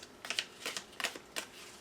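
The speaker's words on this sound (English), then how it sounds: "It's so weird shuffling a round deck." Riffle-like bursts of a round Natural Ink Tarot deck being shuffled by hand: four short papery flurries, close and fairly quiet, with no voices.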